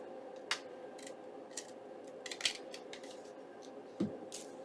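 Paper trimmed for a paper bag junk journal gives a few sparse, close snips and light clicks of scissors, irregularly spaced against quiet room tone, with no talking.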